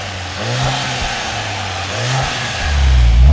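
Engine of a 2024 Mercedes-AMG GLC 43 revving loud and close before a launch, with two rising blips of the throttle and then a deeper swelling roar at the end.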